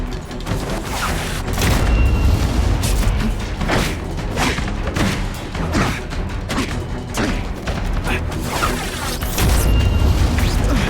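Seismic blast in The Amazing Spider-Man 2 video game: a string of heavy booms, thuds and crashing impacts with whooshes, loud and close, recurring over several seconds.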